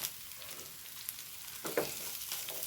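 Country curry leaves crackle and sizzle in a hot pan, a steady frying hiss broken by a few spoon scrapes and clinks as they are stirred, close and alone without talk.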